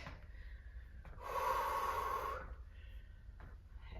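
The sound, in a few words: heavy breathing during sprint interval workout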